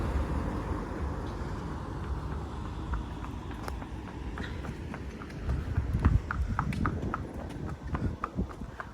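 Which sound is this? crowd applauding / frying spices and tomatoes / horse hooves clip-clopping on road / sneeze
horse hooves clip-clopping on road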